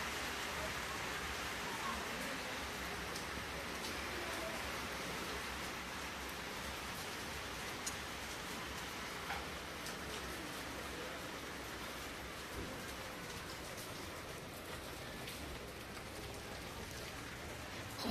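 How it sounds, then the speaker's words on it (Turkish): Steady rain falls outdoors in winter weather, a dense continuous hiss of drops hitting surfaces that holds strong throughout, with no voices over it. "yağmur hızlanmaya başladı"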